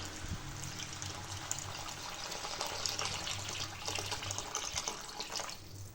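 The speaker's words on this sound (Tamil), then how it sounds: "இப்போ நம்ம தண்ணி ஆட் பண்ணிக்கலாம்." Water running from a tap into a cooking pan, steady and close, while making rava upma with tomato and roasted semolina; a continuous splashing fill with no talk.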